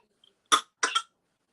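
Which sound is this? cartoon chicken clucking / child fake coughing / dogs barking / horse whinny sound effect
child fake coughing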